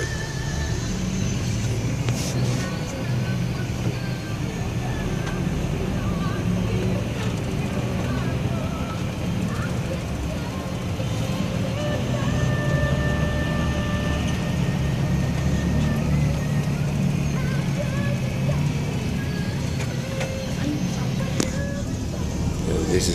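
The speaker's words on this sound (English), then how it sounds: "So there's the traffic" Street traffic rolls along Quezon Boulevard in Manila, Philippines, a continuous low rumble of cars, buses and trucks with engine drone and occasional horn-like tones, steady and moderately loud throughout, with wind buffeting the microphone.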